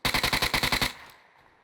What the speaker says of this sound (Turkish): Bu ateş sesi bu arada uzaktan geliyor.